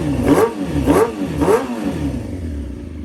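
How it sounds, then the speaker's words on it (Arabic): A rebuilt 2004 Kawasaki 636 motorcycle engine blips three times in quick, even revs, then settles into a smooth idle, close and loud with no talk. "طبعا المحرك صوت كلش حلو ناعم وما في كل مشكلة، تشغيله ناعمة"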